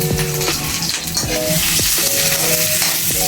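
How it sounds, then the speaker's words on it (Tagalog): Onion sautéing in a pan for giniling, a loud, steady sizzle with a utensil scraping and stirring, clattering against the pan throughout. "gigisayin na natin ito guys hanggang sa lumabas yung aroma ng sibuyas"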